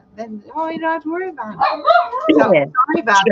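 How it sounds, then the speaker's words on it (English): A pet dog barks and yips repeatedly at close range, loud and vocal, while someone talks over the barking. "That is my dog."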